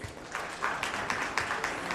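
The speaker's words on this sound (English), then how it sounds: "I think this needs a round of applause." Scattered, fairly quiet clapping from a small audience at an education awards event in India, uneven bursts over a couple of seconds.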